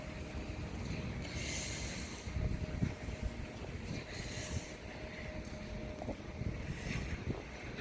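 Strong wind gusting across a rooftop garden, buffeting roar with surges that swell and fade, rumbling against the microphone over a faint steady background hum.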